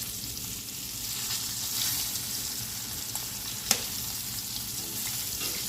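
Squirrel meat frying in hot grease on a wood stove, a steady loud hiss and crackle with small pops running throughout, close by and without talk.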